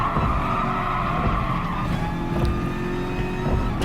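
A race car in Gran Turismo Sport drives with a loud, sustained engine drone and faint tire squeal, running continuously without any talking.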